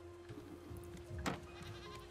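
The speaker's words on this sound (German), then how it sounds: "So, und wie soll jetzt das Schaf da drüber kommen?" Sheep bleating in the survival video game Raft, a single short bleat near the middle rising over a quiet game backdrop with a steady hum.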